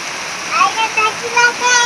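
Heavy rain pours steadily beside a house during a flood, a dense rushing wash of falling water with splashing; voices talk intermittently over it.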